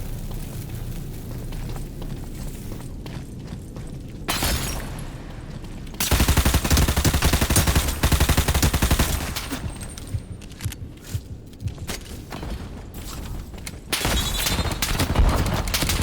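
Gunfire in the cyberpunk shooter video game Out of Action, loud sustained bursts of rapid shots and booming blasts with continuous music and effects, no talking.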